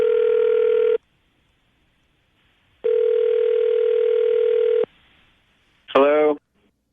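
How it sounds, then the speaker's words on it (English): Two long phone ringback tones sound on the line, separated by silence, followed by a brief voice answering. "Okay, Katie, we're going to get him on the phone right now"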